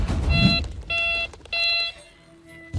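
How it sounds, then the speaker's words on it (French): Metal detector beeping on a search for an abandoned Russian tank stuck in ice, three even electronic tones in quick succession over a low rumble, loud and close. "Ce détecteur de métaux est une vraie camelote."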